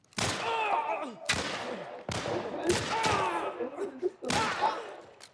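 Gunshots ring out in the video game The Last of Us Part 1, four loud, sharp blasts spaced about a second apart, each trailing into echoing rumble and scattered debris noise.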